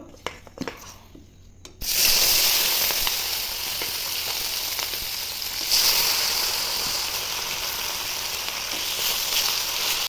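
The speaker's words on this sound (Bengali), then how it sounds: "মাছগুলো ভেজে নেব" Hot oil sizzles and crackles loudly in a wok as rohu fish fry, starting after a brief pause and continuing steadily with a fresh surge of frying midway.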